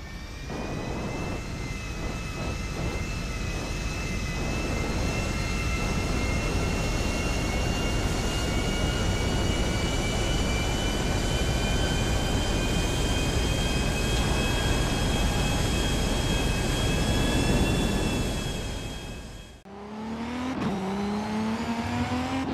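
A plane in Grand Theft Auto V flies with a loud, sustained jet engine whine and roar holding steady for nearly twenty seconds before cutting abruptly to a different engine sound.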